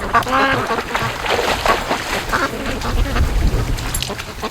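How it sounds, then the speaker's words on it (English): A flock of ducks on the water quacks in a busy, overlapping chorus of calls, close and fairly loud, with a voice speaking over them in places. "That's a mess of ducks."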